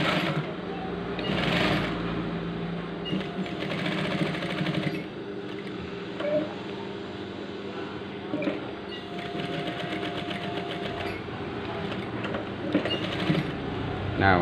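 A sewing machine runs in close, steady bursts of rapid mechanical chatter while stitching the collar of a PDH uniform shirt, pausing briefly between runs.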